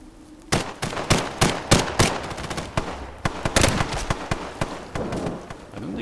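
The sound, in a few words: gunfire in a video game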